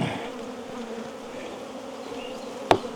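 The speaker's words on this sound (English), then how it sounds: "the bees are so loud around me, I can't hear anything else" Dense, loud buzzing of many bees surrounds the listener continuously at a ten-frame apiary hive, with a sharp click near the end.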